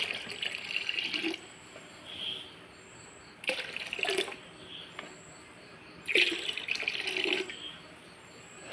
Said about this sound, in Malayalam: അര ലിറ്റർ ഞാൻ ഒഴിച്ചിട്ടുണ്ട്